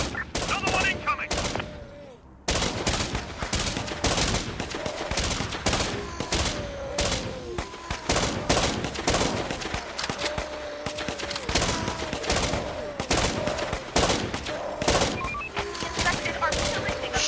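Heavy volleys of gunfire from armed squads in Infection Free Zone, dense overlapping shots crackling loudly and nearly continuously with a brief lull early on, while a voice talks over the shooting.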